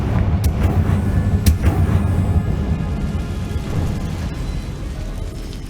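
Confringo fire spell blast in Hogwarts Legacy, a loud fiery burst with sharp cracks early on, then a sustained low rumbling roar that slowly fades, with no talking.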